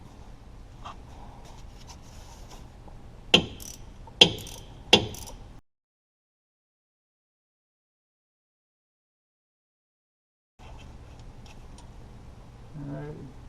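Sharp ratcheting clicks from a wrench loosening a bolt on the front driver-side turbo of a Lincoln MKT 3.5L EcoBoost, three distinct close bursts separated by short pauses, followed by a gap of silence and then low workshop background.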